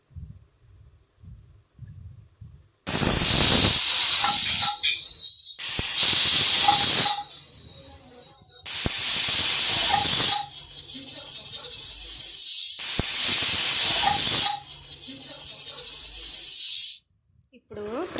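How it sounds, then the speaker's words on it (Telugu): A pressure cooker cooking rajma (kidney beans) gives four long, loud hissing whistles, each lasting a couple of seconds, separated by short quieter pauses. "4 విజిల్స్ వచ్చేంత వరకు ఉడికించుకోవాలి."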